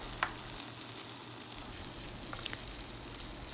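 Blended bottle gourd seed paste fries in a pan, a faint, even low sizzle with a few tiny clicks of a spoon, quiet and without any talking.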